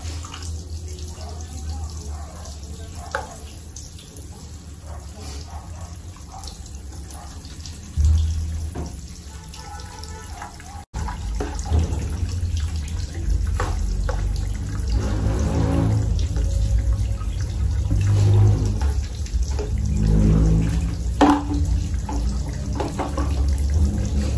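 Tap water runs steadily into a bath as a child is bathed indoors, getting louder and fuller partway through and continuing without talk.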